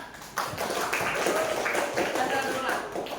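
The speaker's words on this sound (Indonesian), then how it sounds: "Tepuk tangan." A school class applauds together, giving a steady, dense wash of clapping that carries through the whole moment at moderate loudness with voices mixed in.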